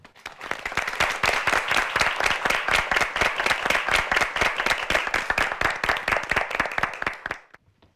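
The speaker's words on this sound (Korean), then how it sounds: "박수로 함께 해주시죠" Steady applause from a studio audience at a Korean high school debate competition, before a student's closing argument. Dense, even clapping runs loud for about seven seconds, then stops abruptly.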